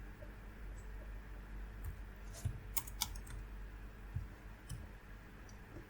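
Keyboard typing while entering values into a world builder tool, scattered light clicks and taps in a few quick clusters, faint and close over a low steady hum.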